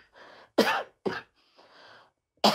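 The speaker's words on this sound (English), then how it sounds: "Don't worry about my cough." Three sharp, close coughs from one person, spaced unevenly with quieter breathy sounds between them, in an otherwise silent room.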